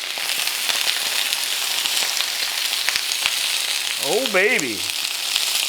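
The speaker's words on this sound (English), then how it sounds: "peppers in the pan. Ooh, listen to that. Sizzle it up," Steady loud sizzling of shishito peppers blistering in hot oil fills the pan, with a brief exclaiming voice near the end.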